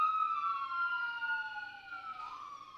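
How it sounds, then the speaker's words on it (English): A siren wails in Philadelphia, a drawn-out tone sliding slowly downward and then rising again, clear and fairly close against a quiet background with no talking. "ambulances and cars are running somewhere in Philadelphia"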